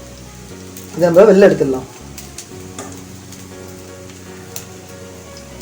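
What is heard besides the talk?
rice cutlets frying in oil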